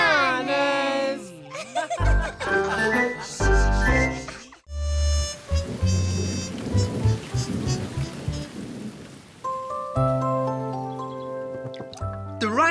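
Steady rain patters through the middle of a scene from the children's TV show Bananas in Pyjamas, set amid bright music with voices speaking or singing before and after.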